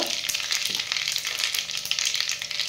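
Mustard seeds and cumin sizzle and crackle steadily in hot oil for a Marathi dal batti dish, a close, continuous frying hiss with no talking.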